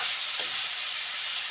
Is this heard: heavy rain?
no